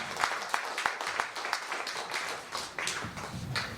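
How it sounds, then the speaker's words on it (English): A modest round of applause for a costumed historical talk about Macedonia, fairly quiet and thin, with individual claps distinct against a small audience. "Let's give him a round of applause."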